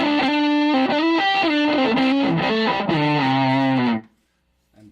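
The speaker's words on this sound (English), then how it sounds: "I put distortion before overdrive." Electric guitar run through a distortion pedal placed ahead of an overdrive, playing a sustained, heavily saturated chordal phrase with shifting notes for about four seconds, then cutting to near silence.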